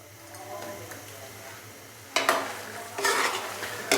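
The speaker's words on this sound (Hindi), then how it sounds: "फ्लेम थोड़ा सा हाई कर देंगे ताकि हाई फ्लेम पे चिकन की अच्छे से भुनाई हो जाए।" Chicken fries over a high flame in a pot while a spoon scrapes and stirs it, a low steady sizzle broken by two bursts of louder scraping, close and fairly quiet.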